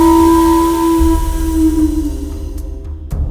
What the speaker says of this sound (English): Be sure to operate the steam whistle before you leave.